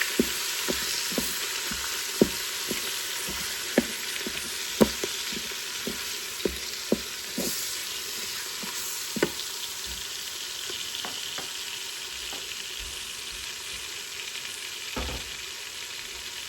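A pound of meat sautés in a pot for bacon cheeseburger soup, giving a continuous soft sizzle. Sharp spoon taps and scrapes against the pot come at irregular intervals, and no voices are heard.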